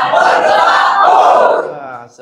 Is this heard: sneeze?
no